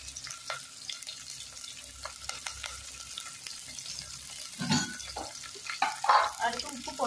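Onion and curry leaves sautéing in a pan for mochai kulambu, a soft continuous sizzle with intermittent stirring scrapes and a louder burst of clatter near the end.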